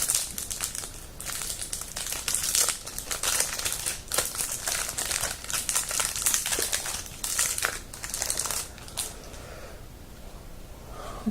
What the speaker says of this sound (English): So we'll unbox these really quickly.